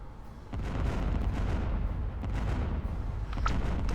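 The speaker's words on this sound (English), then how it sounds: "I kind of send in a missile barrage here." A missile barrage in the space battle game Star Wars: Empire at War, heard as a steady roll of distant, muffled explosions and booms, fairly faint, with a sharp blast near the end.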